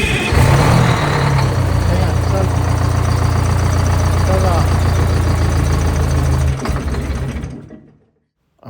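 A Prevost bus diesel engine cranks and catches, then settles into a loud, steady rumbling idle close by before cutting off near the end; no speech is heard.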